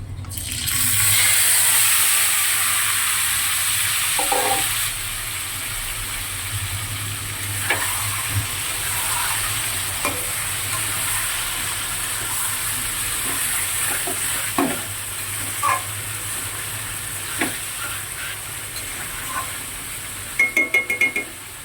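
Marinated chicken fries in a kadai, a steady sizzle and bubbling running throughout with occasional stirring clinks and scrapes, close and fairly loud, no voices.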